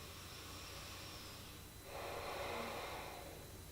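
Soft breathing during a calm yoga session, a steady faint airflow followed by a fuller, slightly louder exhale-like breath near the end, with no talking.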